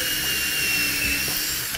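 A power drill whines at a steady high pitch, boring holes into a wooden wall stud while mounting a storage rack. It's close and continuous, with no voices.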